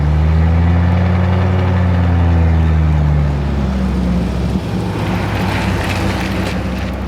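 A classic eight-cylinder car engine, a Bentley or Duesenberg, runs steadily close by with a deep, loud drone, its pitch sliding slightly before settling into an even rumble with some wind noise.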